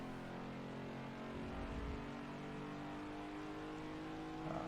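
A Ford Mach 1 on the Watkins Glen road course powers out of a corner, its engine droning steadily and rising in pitch as it accelerates, heard from inside the car with no speech.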